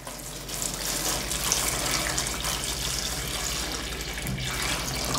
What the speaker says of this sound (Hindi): फोन को हम लोग यहाँ पे रख देंगे और इसके ऊपर हम लोग पानी गिराएंगे।